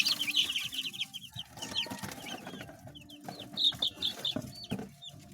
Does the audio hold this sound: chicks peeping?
yes